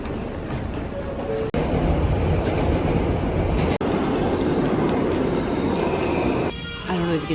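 A New York City subway train rumbles loudly and continuously at close range, with a brief squeal and a clattering shift near the end; faint voices may sit under the roar.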